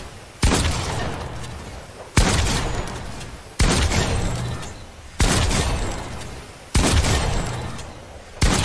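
Fortnite gunfire at practice bots, six heavy, evenly spaced shots about every one and a half seconds, each a loud sharp crack trailing into a long echoing decay.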